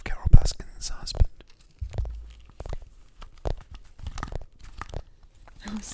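Close ASMR mouth crunching and tearing, a voice imitating tigers chewing through bones, comes in irregular bursts of crisp crackles and munches with breathy whispering between them.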